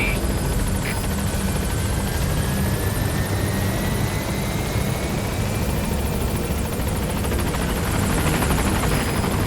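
A helicopter in Metal Gear Solid V arrives at the landing zone, its steady, loud rotor and engine roar filling the whole stretch without letup.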